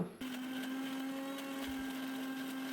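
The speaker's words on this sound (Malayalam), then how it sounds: "കുറച്ച് വെള്ളവും ആവശ്യത്തിന് ഉപ്പും ചേർത്തിട്ട് നന്നായിട്ടൊന്ന് അരച്ചെടുക്കാം" A mixer grinder whirs steadily as it grinds fish masala with water and salt, a loud, even motor hum starting abruptly and running without pause.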